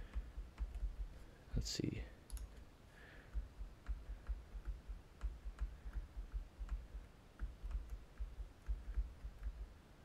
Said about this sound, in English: you can use your arrow keys to just maneuver it